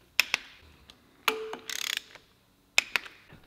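Torque wrench tightening main bearing bolts on a Mitsubishi 4B11 engine, heard as faint, close mechanical clicks and ratchet ticks, with a short rapid ratcheting burst near the middle, in a quiet space.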